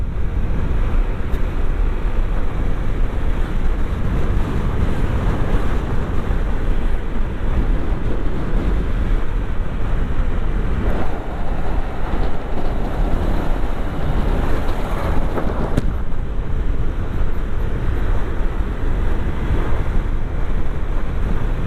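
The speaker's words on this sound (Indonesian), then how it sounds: "Nih kalian bisa dengar ya, anginnya kenceng banget di sini." Strong wind roars into the microphone on a motorcycle tour toward the Simalungun border, a loud, constant, broadband rush with no break and no talking.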